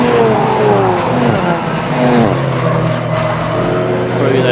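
Race cars, among them an Audi TT, pass by at speed at Croft circuit during a club endurance race, their engines roaring and revving loudly in layered waves beneath steady commentary.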